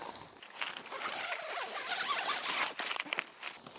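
A tent zipper is drawn open with a steady, close rasping run lasting several seconds, removing the front window panel of a Paslow Aiter air tent so a vestibule can be attached.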